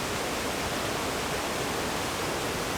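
Steady, dense roar of the Brudslöjan waterfall near Lake Vänern, Sweden, a constant wash of rushing water with no pauses, close and fairly loud.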